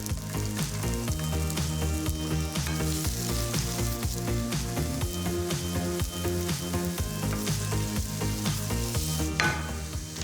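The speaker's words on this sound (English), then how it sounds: "I don't want my garlic to brown. I just want to give it a bit of a head start before the broccoli goes in." Garlic and broccoli sizzle in a hot pan, a loud, continuous close frying crackle with occasional stirring clatter and no talking.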